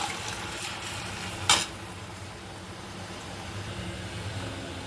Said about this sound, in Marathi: आता यामध्ये आपण मटकी जी शिजवून घेतलेली आहे ती यामध्ये आपण घालून घेणार